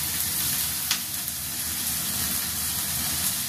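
Mushrooms fry in a little oil in a home kitchen pan, giving a steady, even sizzle that runs unbroken, with one or two faint stirring taps.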